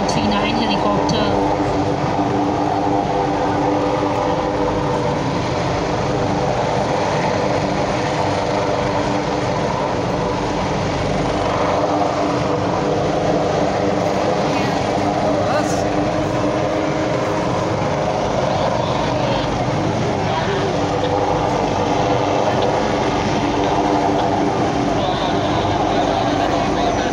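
An AW-139 helicopter hovers during a rescue basket hoist above a house roof, its engine and rotor making a loud, steady, continuous roar throughout with no pauses; a voice speaks over it.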